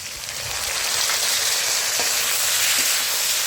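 Ginger paste and green chilies frying in a hot pan of oil with fried vegetables, a loud, steady, hissing sizzle close by that swells slightly and continues without pause.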